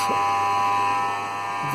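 A constant mechanical whine with a steady electrical buzz, droning evenly without change, from a faulty air-conditioning compressor on a 2016 Toyota Yaris hybrid that blows no cold air.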